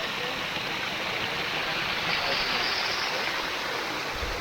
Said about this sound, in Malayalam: ഇവിടെ ഒരു വെള്ളച്ചാട്ടമുണ്ട്, ചെറുതായിട്ട് ഇങ്ങനെ വെള്ളമുണ്ട്